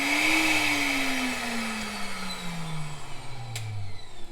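Vitamix blender motor runs with a loud, close whirring roar whose pitch gradually drops as it steps down through its speeds, ending in a brief click; no talk.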